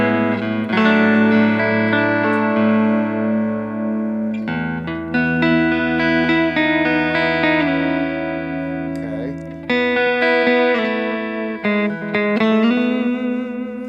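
Electric guitar played through a delay pedal set by tap tempo, with each note echoing back in time with the beat, sustained and fairly loud under a roomy, effects-laden tone with phrases stopping and restarting.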